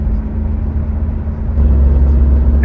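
Cars passing on a quiet road in Guam as the outer bands of a typhoon arrive, with a steady close engine rumble and tire noise that swells louder midway.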